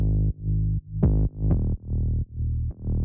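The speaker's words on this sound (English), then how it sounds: "We have an 808 style serum bass here from our pack" An 808-style Serum synth bass built on a custom sine wave plays a pop house groove: loud, deep sustained notes cut into five rhythmic phrases, with short clicky attacks at note starts and no voices.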